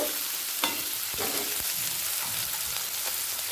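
Ginger paste stirred together with potato, tomato and green chilli in a pan over a low gas flame, under a steady close sizzle with scattered scraping strokes of the spoon.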